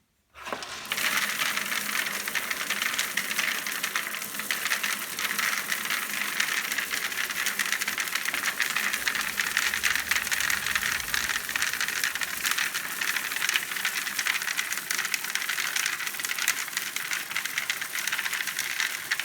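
A wood pellet sifter and hopper runs with pellets pouring through it, making a loud, continuous rattling hiss that starts abruptly and stays steady throughout.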